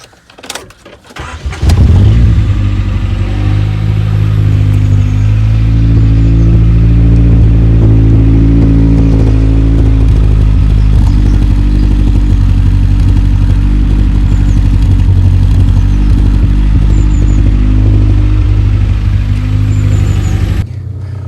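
Rover 416 GTi car engine starting with a few clattering cranks, then idling steadily and loudly up close as it warms up, a continuous even rumble.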